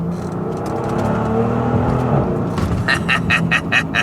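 A Mercedes-AMG S65 being driven in manual mode, a steady engine drone and road roar heard from inside the cabin, with a rhythmic ticking pulse near the end, loud and continuous with no talking.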